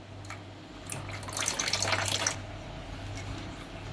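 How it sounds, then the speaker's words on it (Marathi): Cold water pours into a glass holding tamarind sherbet and soaked basil seeds, a steady close splashing stream that swells in the middle and then settles into a softer trickle. "आणि त्यामध्ये थंड पाणी ओतणार आहे."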